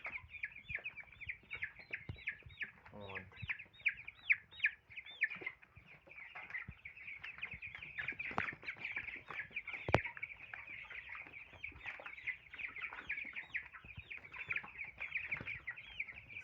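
Cobb broiler chickens cluck continuously while crowding feeders to eat, a busy flock chorus with repeated rising calls, close and steady throughout.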